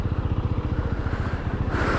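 A TVS Apache RTR motorcycle engine thumps at a steady idle with a slow, chugging, tractor-like rhythm, close and continuous.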